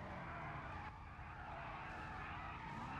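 Car tires spin and skid in a racing video game, a loud continuous screech layered over a roaring engine that runs steadily for the full few seconds with no talking.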